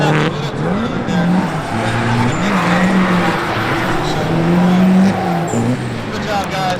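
Drift cars slide through a corner at a drifting competition, engines revving in rising and falling pitches with tire squeal and skidding, loud and close, while a commentator talks over the action.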